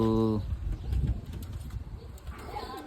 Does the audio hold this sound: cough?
no